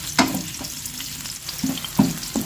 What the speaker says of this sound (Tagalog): lagay na po natin yung ating sibuyas. Ayan. Gisa-gisa lang po mga kabayan.